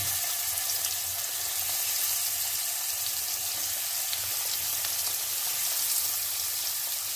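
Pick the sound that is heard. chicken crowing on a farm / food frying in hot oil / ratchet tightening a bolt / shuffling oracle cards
food frying in hot oil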